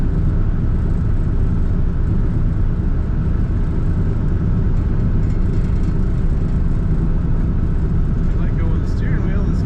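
A 1953 Cadillac Series 62 four-door sedan with an automatic transmission cruises along, its engine and road noise a steady, close rumble throughout without obvious shifts or talk.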